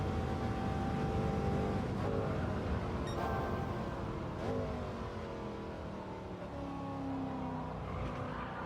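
A race car in Gran Turismo 7 revs loudly, its engine pitch rising and falling but never quite revving out fully, with brief tire squeal over the steady engine roar and no talking.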